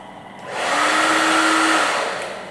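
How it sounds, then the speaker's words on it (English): A hair dryer blows on wet slippers inside a parked Tesla while stealth camping, switching up to a steady, loud whirring whine for about two seconds with no talking. "you can hair dry them."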